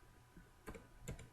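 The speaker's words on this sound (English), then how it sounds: "here we're going to type in 101 Monroe Street and press the shift and enter key again" Two faint, quick clicks from keys pressed on a computer keyboard, each a short separate tap against a quiet background.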